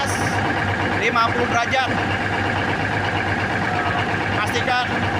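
A 500 KVA diesel generator set runs with a steady, loud mechanical hum and engine rumble, unchanging throughout while someone speaks over it.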